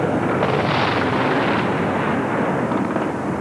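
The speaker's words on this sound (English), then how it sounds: "major explosions, sparks going up" Large missile explosions during the bombing of a city in the Iraq War, a continuous loud, rumbling roar of blasts blending together, heard from a distance without talk.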